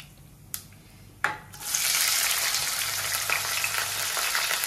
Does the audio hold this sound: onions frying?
yes